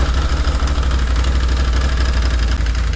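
Close, loud engine of a 2023 Can-Am Outlander X-MR ATV running with a throaty, steady drone and slight rises in pitch, no voices over it.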